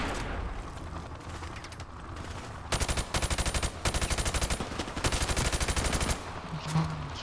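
Rapid automatic gunfire from a gun in a video game rattles out in several loud, tightly spaced bursts separated by brief pauses.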